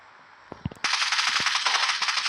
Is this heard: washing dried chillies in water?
no